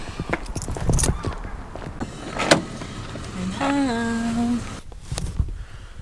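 A car door shuts and a power window motor whirs briefly as a driver settles into a car, close by, with a few soft clunks and rustles around it.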